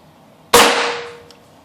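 A Benjamin Armada air rifle fires a single Predator PolyMag pellet: one sharp, loud crack with a bright burst that rings and decays over about a second, followed by a faint tick, with no other sound around it.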